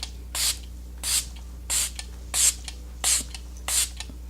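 Makeup setting spray is pumped in six short, crisp hissing bursts at a steady, even rhythm, each with a quiet click, close by in a quiet room with a low background hum.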